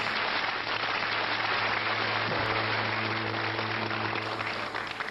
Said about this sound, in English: Let's give it an applause for her, shall we?